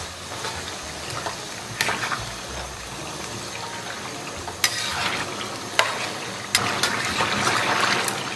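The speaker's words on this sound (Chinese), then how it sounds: "然后小火给它炒香。" A sauce of chili paste, soybean paste, fermented tofu and sweet bean paste is stir-fried with scallion and ginger over low heat. A gentle sizzle runs under repeated scraping stirs, with a few sharper clacks of the utensil on the pan.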